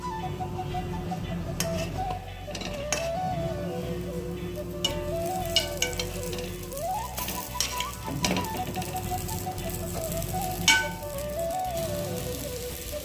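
Litti roasting in a pan and being turned over: a steady sizzle with scattered ticks and scraping clicks, alongside a melodic tone pattern running throughout.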